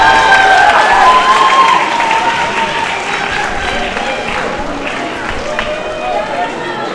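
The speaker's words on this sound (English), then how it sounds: "one more round of applause for Students of the Month" A school assembly crowd applauds students honored as Students of the Month at an 8th grade awards event, a loud, dense wash of clapping that starts strong and continues steadily with some faint voices mixed in.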